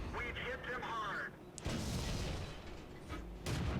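A tank firing HE shells in the game World of Tanks, one sharp loud cannon shot followed by rumbling battle noise and a second blast, while someone talks throughout.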